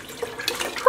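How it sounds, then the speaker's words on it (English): Plain tap water pours into dye basins with a brief, close, steady splashing rush that rises slightly at the end. "I'm gonna add an additional approximately 500 milliliters of plain tap water to each of these containers"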